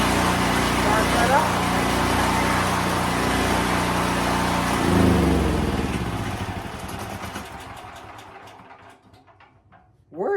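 A small Generac generator engine starts up with the choke on and runs with a loud, buzzing, close drone, then gradually fades and quietens toward the end.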